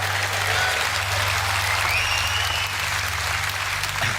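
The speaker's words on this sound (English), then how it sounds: "you can clap for that" A large audience at a Reform UK political speech breaks into applause: dense, sustained clapping that stays steady and loud throughout, with a faint low hum underneath.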